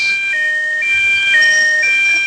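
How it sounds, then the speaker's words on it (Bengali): An ambulance siren in the GTA video game, a loud electronic tone alternating between pitches in a steady wailing cycle, sounding close and clear with no one talking. "কি অ্যাম্বুলেন্স?"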